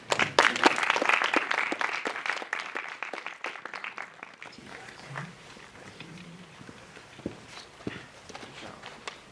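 Audience applause at a design lecture, loud dense clapping for the first half that thins out to scattered claps, with a low murmur and faint voices toward the end.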